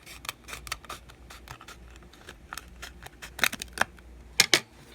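Scissors snip through a plastic hand cream tube in a run of short, sharp crisp cuts, close and clear, growing louder and more forceful toward the end with no talk.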